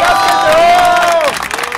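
A crowd at a football championship tournament cheers and applauds loudly in a short, dense burst of shouts and clapping, close and energetic, fading slightly at the end.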